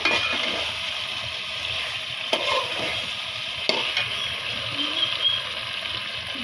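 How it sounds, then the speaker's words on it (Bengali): A spoon scraping and stirring chickpea curry with pumpkin in a pan, with a soft sizzle throughout and a few sharper knocks against the pan. "এই তো আম্মু এটাকে এখন ভালোভাবে নাড়িয়ে চাড়িয়ে নিচ্ছে।"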